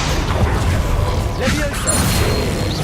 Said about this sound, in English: Accio.